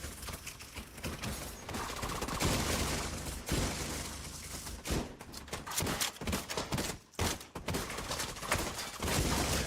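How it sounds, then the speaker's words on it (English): Sustained automatic gunfire from a turret in The Division 2 shooter game, dense overlapping bursts with thuds and impacts filling the scene, loud and continuous with brief lulls. "Is that a turret? Oh, that's a turret."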